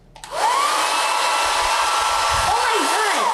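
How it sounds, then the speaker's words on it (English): A handheld hair dryer switched on at its highest setting spins up with a rising whine, then settles into a loud, steady rushing roar of blown air, close and alone. "now let's do a hairdryer. Okay, I'm gonna turn it on from the loudest."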